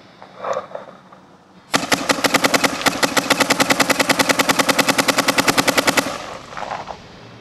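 A Luxe X paintball marker fitted with a 14-inch carbon fiber Freak XL barrel fires a rapid, evenly spaced string of about forty loud, close pops over roughly four seconds, with brief quieter handling noise before and after.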